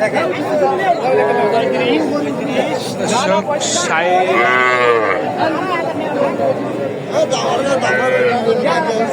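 Bulls and heifer calves moo loudly and repeatedly over busy crowd chatter, with people talking throughout in a noisy outdoor livestock market in Raniganj.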